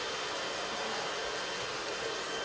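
A blow dryer runs steadily at close range, giving a continuous, even airy whoosh with a motor hum underneath and no pauses.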